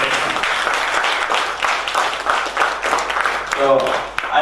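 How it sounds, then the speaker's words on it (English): Applause at an IEEE Bangladesh section technical event: a dense, sustained round of clapping from a hall audience, loud and even, with a voice briefly showing near the end. "a big round of applause for IEEE Bangladesh section"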